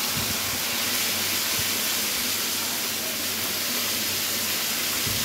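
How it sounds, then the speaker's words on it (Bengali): Potatoes frying in a frying pan for a Bengali pointed gourd and prawn dish, giving a steady, loud sizzling hiss that runs unbroken throughout with no talk. "ফ্রাই প্যানে পটল ভাজার পরে আলুগুলি ভেজে নেব"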